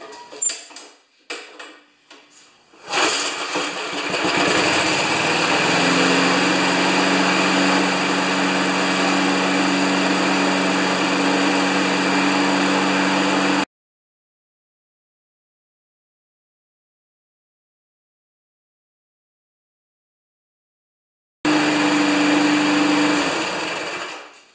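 A 1992 Wedgefield lawn mower with a Briggs & Stratton engine is pull-started after a few clicks and rattles, then idles loudly and steadily, cuts out abruptly into silence, and fires back up near the end.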